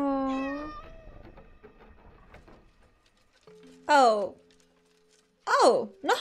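A cat meows several times in the horror video game Layers of Fear: Inheritance, with sharp drawn-out cries near the end after quieter game ambience, and a voice heard early on.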